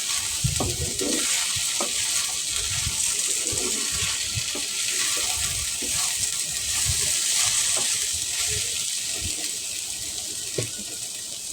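Potatoes and teasel gourd stir-fried with five-spice seeds, turmeric and salt in a pan, a steady sizzle with intermittent scraping and stirring knocks of the spatula throughout, no talking.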